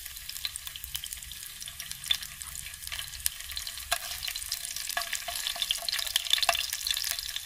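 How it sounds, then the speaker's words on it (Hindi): Bottle gourd root fries in hot oil, a continuous bright sizzle and crackle with light stirring scrapes, steady and close, growing slightly louder toward the end, with no voices. "तेल गर्म हो जाने के बाद उसमें हम लौकी का जड़ को डाल देंगे।"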